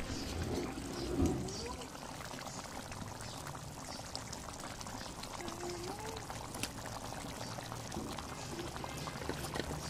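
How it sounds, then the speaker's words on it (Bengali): Mustard hilsa curry bubbling in a pan, a steady wet boiling and popping hiss that runs the whole time, with a louder splash of liquid near the start. "দেখতে পাচ্ছেন উপরে বলক উঠে যাচ্ছে, তার মানে অনেকটা সিদ্ধ হয়ে গেছে।"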